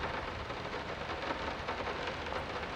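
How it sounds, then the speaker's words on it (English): Steady, dense rain from the Layers of Fear game pours continuously and evenly, close and enveloping, with no voices over it. "I can still hear the rain"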